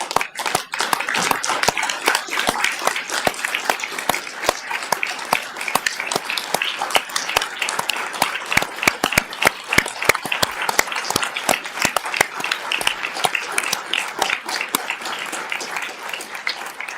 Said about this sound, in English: I'm going to applaud all of you.